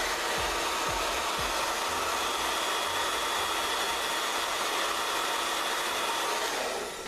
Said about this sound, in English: So now I'm just gonna go and blow dry.